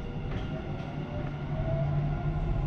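Steady low rumble of a Dubai Metro train riding near Al Fahidi station, a continuous close drone of wheels and carriage noise with a faint whine, no talking.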